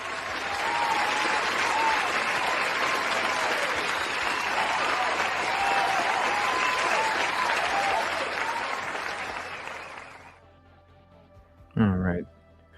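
A sustained round of applause from a live audience rolls on steadily for about ten seconds, then stops abruptly before a brief chime-like sound.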